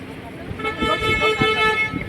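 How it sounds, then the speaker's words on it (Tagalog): Car horns toot in heavy road traffic in Salmiya, Kuwait, with a few short honks heard close by while someone talks over them and steady traffic noise runs underneath. "Traffic na. Traffic. Yan, haba ng traffic."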